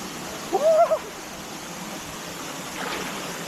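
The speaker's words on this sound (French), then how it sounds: "Les gars, on est dans une cascade en Australie" An Australian waterfall makes a steady, faint rushing hiss throughout, with a brief hooting vocal cry near the start standing out above the water.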